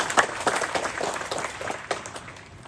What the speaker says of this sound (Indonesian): Maka pantas kita beri tepuk tangan yang semeriah mungkin untuk mereka.